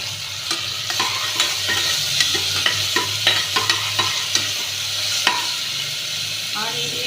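Curry leaves and chopped tomato, with a large potato, frying in a pan, sizzling steadily while a spatula scrapes and stirs in repeated strokes, close and fairly loud with no talking.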